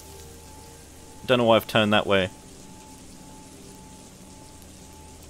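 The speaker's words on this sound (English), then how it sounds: "I will eventually die from this acid rain" Acid rain falls in a Unity-built video game as a steady, even hiss throughout, with a short burst of someone talking in the middle.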